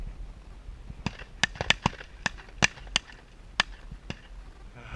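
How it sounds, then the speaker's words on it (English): A 20 gauge shotgun fires during a bird hunt in a series of sharp, distant cracks, about ten reports spaced unevenly across a few seconds, some in quick pairs, over quiet outdoor background. "she got a couple shots fired up there. At least she's letting it loose now. That one pops nice. That's a nice little 20 gauge."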